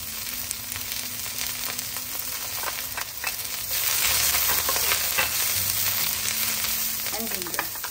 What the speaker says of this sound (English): Into the wok, we're going to add the green onion, pepper,